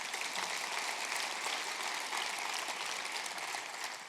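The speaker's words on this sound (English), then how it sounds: "give them a big round of applause" Sustained applause from a church congregation at a Sunday student takeover service, a steady broadband clapping wash that stays even and fairly loud throughout without a break.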